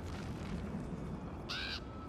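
A crow caws once in The Elder Scrolls Online: Morrowind, a short harsh call near the end over a low rumbling game ambience.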